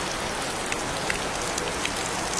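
Steady rain falls outdoors during a fish-release merit ceremony, making a dense continuous hiss with scattered distinct drops pattering on a nearby surface, even and moderately loud throughout.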